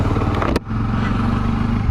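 Bajaj Dominar 400 motorcycle engine idling close by, a steady low throbbing rumble with a brief cut near the start before it settles into an even drone.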